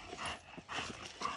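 A dog gives a few short barks or yips in a loose rhythm, fairly close, with no talking over it.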